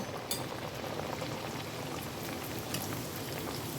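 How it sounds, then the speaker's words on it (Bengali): Egg kachori frying one by one in hot white oil over a low flame, a steady dense sizzle and crackle like rain, continuous and close throughout. "এবার আমি একটা একটা করে কচুরি কিন্তু এর মধ্যে ভেজে নেব"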